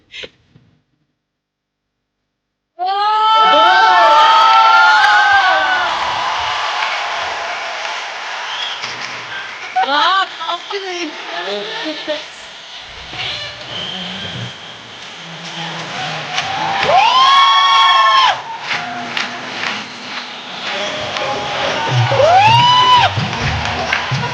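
Studio audience on a Hindi comedy show applauding and cheering loudly in long sustained bursts, with whoops and voices rising over the crowd after a brief silent start.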